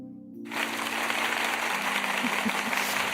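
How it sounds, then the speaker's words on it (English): Light applause from a small audience at a garden party event rises suddenly after a brief near-silence and continues as a steady, even patter beneath a faint hum. "So there's a little applause there. We can hear it."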